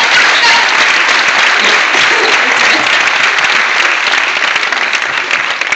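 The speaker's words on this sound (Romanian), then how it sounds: "Ia să vedem noi niște aplauze" A cinema audience gives loud, sustained applause after a film screening, dense clapping from many hands that stays full and even for several seconds before easing slightly at the end.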